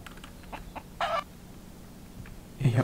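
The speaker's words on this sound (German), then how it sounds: "Ich habe einen Huhn gefangen." Chicken in the survival game Mist Survival gives a few short clucks, scattered bursts over a quiet background with no talking.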